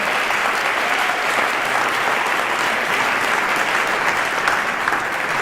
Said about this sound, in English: Yeah, we can applaud that.